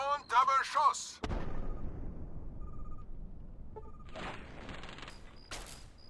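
Artillery fire in the video game Fallout 3: a sudden heavy boom followed by a long rumbling roar, with further blasts and crackling debris later, after a brief burst of voices at the start.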